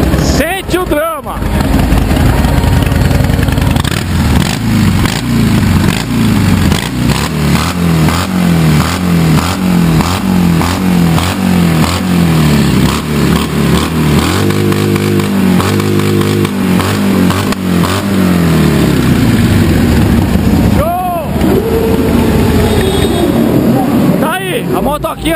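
Harley-Davidson motorcycle for sale at an event, started up and revved hard with loud, rough throttle blips and sustained roaring, a voice talking over the engine.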